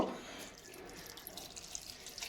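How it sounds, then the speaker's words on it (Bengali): A small amount of water poured into the ingredients for a radish mash, a soft continuous trickle and splash that holds steady for a couple of seconds at close range with no talking. "এবার আমি জল দেব জলটা খুব একটা বেশি দেবো না অল্প দেব"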